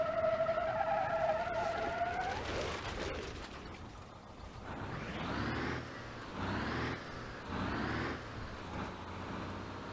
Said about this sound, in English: Man, that turbo pumps out boost